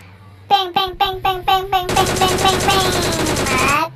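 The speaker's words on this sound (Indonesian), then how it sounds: "Menembak." Automatic gunfire in the PUBG Mobile battle royale game: six sharp separate shots, then a dense rapid burst of continuous fire lasting about two seconds, loud and close.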